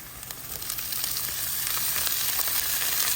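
Bitter gourd frying in a pan with softened onions for a Sri Lankan vegetarian dish, a steady close sizzle and crackle that grows slightly louder over a few seconds, with no talking.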